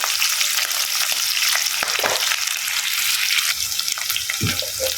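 Onions frying with green chillies, cumin and curry leaves in a pan, a dense steady hiss of sizzling oil throughout, close and loud, with a few stirring clinks and a low scrape near the end.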